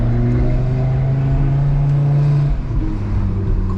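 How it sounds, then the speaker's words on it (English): An Audi RS3's exhaust, switched to quiet comfort mode, gives a steady, moderately loud low drone from inside the cabin that eases off slightly near the end, with no talking. "how quiet this exhaust can be just by the flick of a button. So we put it into comfort mode."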